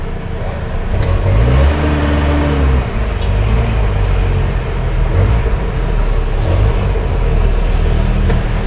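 A cold car engine, fitted with a Fitech fuel injection system, runs loudly up close, revving up a few times between stretches of steady idling at about 850 RPM.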